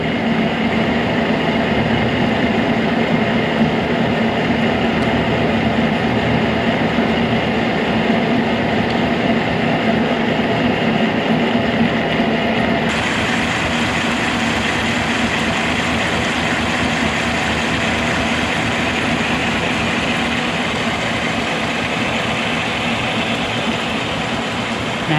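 A K&T milling machine makes its first cuts with a steady, continuous loud grinding roar. The sound holds for the full length, its texture shifting slightly midway, and no voices are heard.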